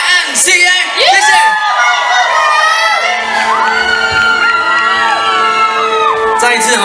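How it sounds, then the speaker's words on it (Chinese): An outdoor summer concert crowd in Pingtung cheers, whoops and screams excitedly, a dense wall of shouting voices filling the whole stretch with no quiet gaps. "给他们热情的掌声加尖叫声"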